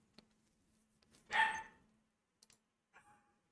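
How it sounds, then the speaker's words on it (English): A dog barks once nearby, a sharp, faint single woof set against a quiet room with a few small clicks and thin, distant yips afterward. "Can you stop barking,"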